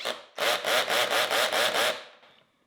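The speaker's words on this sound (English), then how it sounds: "use your drill and put it in there." A power drill drives a screw into wood on a plant stand build, a loud near buzz that starts abruptly and pulses in about seven quick even bursts before trailing off.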